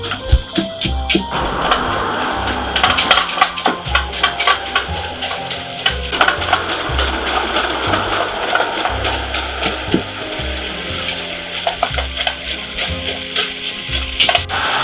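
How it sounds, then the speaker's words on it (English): Ground meat fries over high heat in a pan for an Italian tomato meat sauce, a dense crackling sizzle with scraping and clicking of stirring that continues steadily and close, without any voices. "I'm frying the meat"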